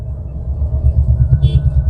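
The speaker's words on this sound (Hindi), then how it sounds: "ये देखिए अब हम आ गए यहाँ पे प्रॉपर ट्रैफिक में।" Heavy city traffic rumbles around a manual car moving through it, a steady low engine and road drone with a brief higher hiss of passing vehicles.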